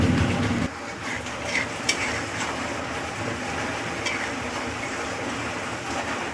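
Spice mix being stirred into mutton rezala in a pot, a continuous gritty scraping and sizzling with a few light clinks throughout.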